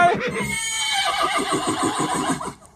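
A horse gives a loud, close whinny that rises and then breaks into a rapid, shaking run of pulses lasting a couple of seconds before cutting off, with no talk over it.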